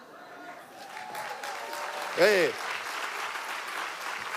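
A festival closing-ceremony audience at Gérardmer's fantasy film festival claps steadily beneath a host's amplified speech, with a brief ringing tone cutting through midway.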